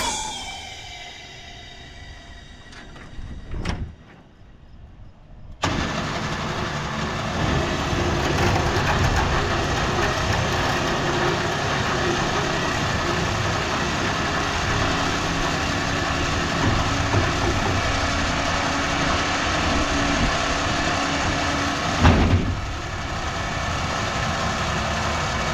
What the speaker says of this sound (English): We can drive in that winch and